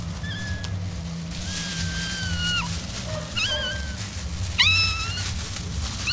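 A cat meows repeatedly in several drawn-out, wavering cries, fairly close and clear over a low steady background rumble, with no talk.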